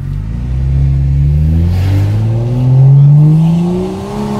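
A loud BMW with a raspy exhaust revs close by, its deep engine note climbing and falling in repeated throttle blips with a rough rumble.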